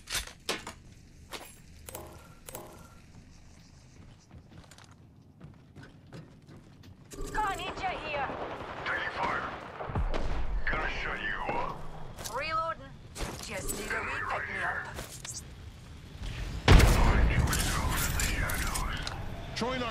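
Gunfire and mechanical clatter from a shooter video game battle, with cracks and bursts layered over game music and effects, growing denser in the second half while a player talks throughout.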